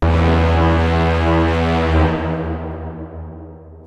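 A cinematic braam synth layer pitched an octave up, with a bit more high end let through: one sustained, dense, buzzing brass-like tone that fades slowly over a few seconds, alone and loud.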